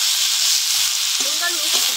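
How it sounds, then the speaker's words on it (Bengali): Watermelon rind and vegetables sautéing in a pan for shukto, a loud, constant close sizzle with a faint voice briefly underneath. "এবার ভালো করে সবজিটাকে কষিয়ে নেব।"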